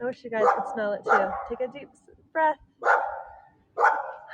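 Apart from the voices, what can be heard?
dogs barking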